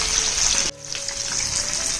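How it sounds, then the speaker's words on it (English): Fish deep frying in hot oil: a loud, close, crackling sizzle that drops abruptly for a moment, then returns as a steady bubbling hiss with scattered pops. "Now I've put it for deep frying fish."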